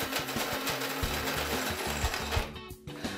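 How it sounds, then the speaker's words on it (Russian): A VITEK VT-1548 electric coffee grinder grinds coffee beans with a quiet, rapidly pulsing mechanical chatter, then briefly drops to a softer whir near the end. "И после того, как начнет работу кофемолка, выбираем степень помола 4."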